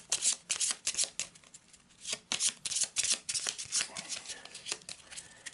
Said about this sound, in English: Let's give it a bit of a shuffle.